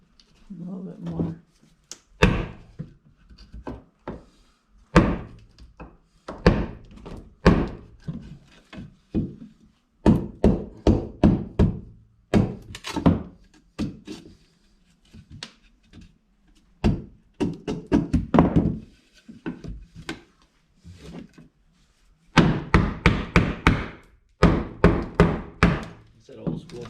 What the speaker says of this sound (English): It's that old school banging into place carpentry.